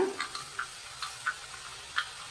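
Butter murukku (chakli) dough pressed into hot oil over a medium flame, giving faint, sparse sizzling crackles in a few soft bursts, quiet and without talk.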